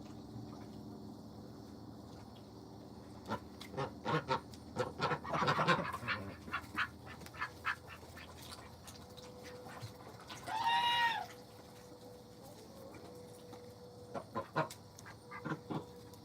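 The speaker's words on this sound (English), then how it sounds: "I have chickens and ducks." Backyard chickens and ducks at feeding time, with scattered clucks, quacks and honks coming in short bursts at a modest distance. One louder squawking call rises in the middle.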